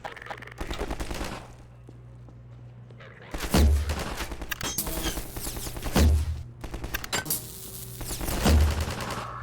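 Loud rapid gunfire from a weapon in the video game Half-Life 2 rattles out in three dense volleys, each ending in a heavy booming thump, with quieter stretches between them.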